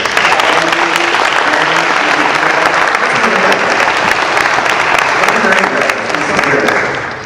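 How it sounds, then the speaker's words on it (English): A crowd at the Long Beach mayoral debate applauds the debate committee, with dense, steady clapping from many hands that holds strong throughout and fades slightly at the very end. "a round of applause for the Yes We Can Club Mayoral Debate Committee"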